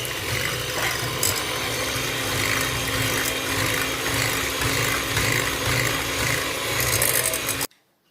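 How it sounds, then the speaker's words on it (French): An electric hand mixer beats sugar and eggs together in a bowl, a steady whirring motor drone with a rhythmic pulsing churn lasting several seconds before cutting off abruptly. "Donc on va battre d'abord le sucre et les œufs."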